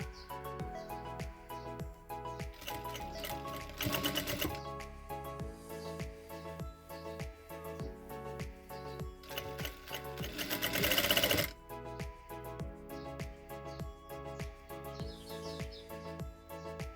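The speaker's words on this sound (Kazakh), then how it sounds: "Енді осыны машинкада тігіп аламыз." An electric sewing machine stitches fabric in a tailoring setting, running in steady rapid bursts of needle clatter over about seventeen seconds, close and fairly loud, with two stronger surges near the middle and no talk.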